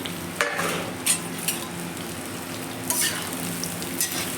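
Amla (Indian gooseberries) frying in a pan for pickle, a soft steady sizzle broken by several distinct scraping stirs of a spoon against the pan, fairly close and with no talking.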